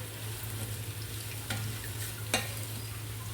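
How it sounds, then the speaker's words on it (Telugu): Soaked chana dal and urad dal being mixed into a vegetable batter in a pan for millet ponganalu, a soft continuous sizzle with two sharp spoon scrapes against the pan, no speech. "చివరిగా శనగపప్పు, మినపప్పు కూడా మిక్స్ చేసేసుకుందాం."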